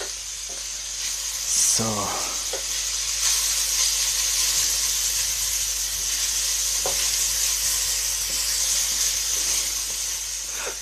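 Chard leaves fry in a hot pan with a steady, close sizzling hiss that runs through the whole stretch, with a brief spoken word near the start and a few faint clinks.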